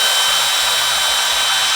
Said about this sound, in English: You can move your drill